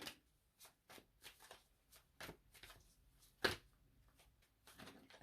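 Tarot-style playing cards slapped and slid onto a table one after another in a quick, irregular patter of soft flicks and taps, close up and quiet, with one sharper snap partway through.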